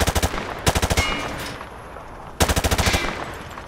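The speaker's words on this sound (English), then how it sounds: "Grab that weapon off the table and fire at the targets behind you." Rapid automatic gunfire at targets in Call of Duty: Modern Warfare 2, with three loud bursts of evenly spaced shots, each burst about half a second long, separated by brief gaps.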